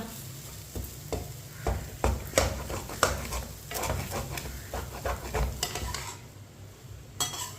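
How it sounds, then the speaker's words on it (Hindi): Semolina for laddu roasting in a pan over medium-low heat, with repeated scraping and stirring strokes of a spoon against the pan over a soft, steady sizzle, close and fairly quiet with no talk. "सूजी को अच्छी तरह पकाना है 5 मिनट के लिए, ताकि इसका कच्चापन ख़त्म हो जाए"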